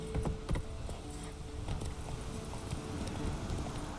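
Horse hooves in The Witcher 3 video game: steady, close clip-clop of a trotting horse over a low rumbling game background.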